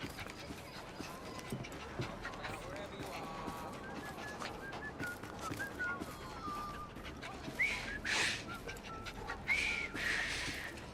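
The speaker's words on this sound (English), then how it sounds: "I've just learned to whistle." A character in the video game Assassin's Creed Syndicate whistles a short, wavering melody over steady street ambience, with louder bursts of noise near the end.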